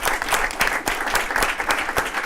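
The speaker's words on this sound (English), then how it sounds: "invite a round of applause for our awesome panelists" An audience claps steadily, a dense round of applause from many hands with no one speaking over it.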